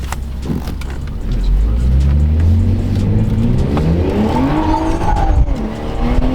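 A tuned BMW B58 engine roars as the car accelerates, the loud revving rising in pitch through a gear, heard from inside the cabin with people talking and exclaiming over it.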